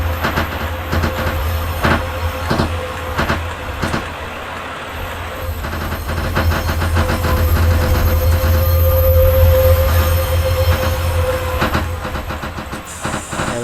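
A British Rail train pulls into Leaton station with a steady loud rumble and hiss of wheels on track, a thin high squeal running over the top and rising through the middle, and no voices.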